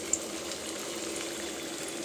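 Soybean pakoras frying in hot oil for a home-cooked curry, a steady, fairly faint bubbling hiss that holds evenly throughout with no voices.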